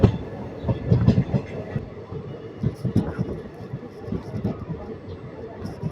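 A Guntakal passenger train rolls into Shadnagar station on an Indian railway, heard from on board. Wheels clatter on the rails in uneven bursts with a steady rumble beneath, and voices can be heard talking over the noise.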